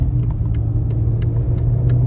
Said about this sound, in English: Look at that, it shifted like it was supposed to. 3rd and 4th gear, very nice.